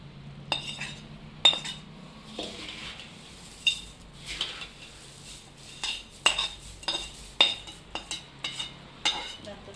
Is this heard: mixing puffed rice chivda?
yes